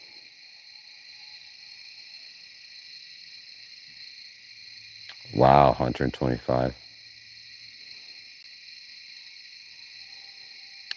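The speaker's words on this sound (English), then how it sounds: "those are our crickets, believe it or not. Crickets are loud" Loud outdoor crickets in Upstate New York keep up a steady high-pitched chirping drone throughout, while someone briefly speaks over it partway through.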